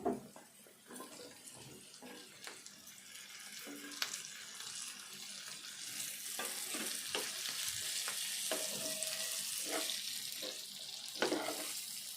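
Ivy gourd pieces fry in a pan, giving a steady close sizzle with occasional stirring scrapes and clinks; no voices.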